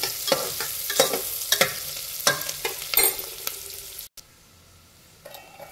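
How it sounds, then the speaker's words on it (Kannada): Onions fry in a pan for tomato rice bath, a spoon scraping and stirring in quick uneven strokes over a soft sizzle, close by, before the sound drops away near the end; no voices. "ಈರುಳ್ಳಿ ಚೆನ್ನಾಗಿ ಫ್ರೈ ಮಾಡಿ."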